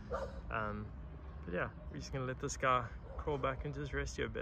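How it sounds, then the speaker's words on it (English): Dogs bark and yip repeatedly in the background from a nearby residential house while someone talks over them in the foreground. "Sorry about the dogs, I'm just right next to a residential house."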